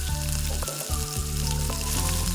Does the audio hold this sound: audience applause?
no